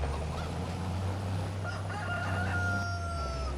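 Roosters crow on a farm, several drawn-out cock-a-doodle-doo calls rising over a steady low engine rumble from nearby farm machinery.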